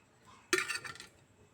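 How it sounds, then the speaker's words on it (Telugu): A pot set down on a stove with a sharp metallic clink and clatter, followed by a brief rattle as oil goes in, close and alone for about half a second, while preparing a cucumber chutney tempering. "ఇప్పుడు స్టవ్ పై గిన్నె పెట్టుకొని ఆయిల్ వేసుకోవాలి."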